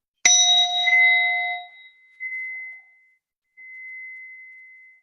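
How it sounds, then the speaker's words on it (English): A single bell is struck once, ringing out with a sharp attack and a clear, sustained tone that slowly decays, followed by faint lingering resonance alone in silence. "So let's ring the bell. The bell is the sound that connects us to getting into positive mindset mode."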